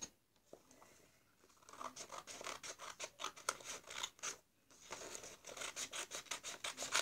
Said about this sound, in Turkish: şimdi makasımız evet buradanmış. Şöyle kesiyoruz.